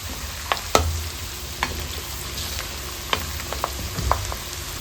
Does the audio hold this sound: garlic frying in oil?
yes